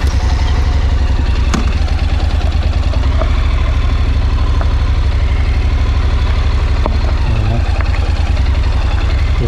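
A Honda NC750X motorcycle rides on, its engine giving a steady, loud, close rumble with constant wind noise throughout, and a rider talks over it.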